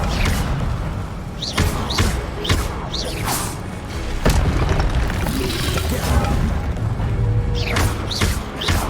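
Fiery spell blasts and booming magical impacts in the wizarding game Hogwarts Legacy, loud and continuous with several sharp whooshing bursts over dense rumbling combat noise.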